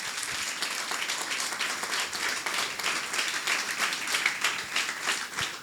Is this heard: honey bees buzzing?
no